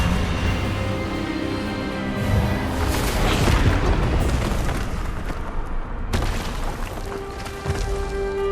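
An Expelliarmus spell blast in Hogwarts Legacy builds into a loud, booming rush that swells and crackles for several seconds, then cuts off abruptly before a lower rumble resumes over the game score.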